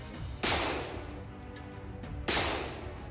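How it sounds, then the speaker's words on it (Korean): Two loud gunshots, sharp cracks about two seconds apart, each followed by a long fading boom over a steady rumbling background, with no talking. "죽음을 직감했던 그때 2발의 총성이 울렸고"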